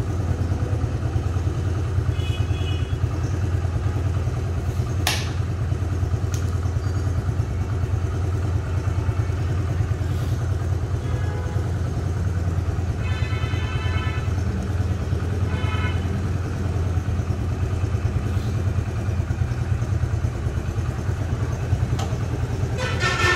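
A new Yamaha YBR125G motorcycle engine runs steadily on its first ride with a constant low rumble, while faint outdoor traffic, occasional clatter and a few distant horn toots sit in the background.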